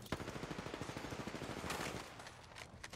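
Rapid automatic gunfire from the Apex Legends video game, a fast steady burst of loud shots for about two seconds followed by a few scattered single shots, with no talking.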